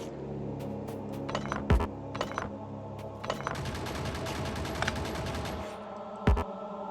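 Gun turrets firing in Factorio as rapid metallic bursts and clinks, with a couple of heavier thumps against a dense busy backdrop of game noise.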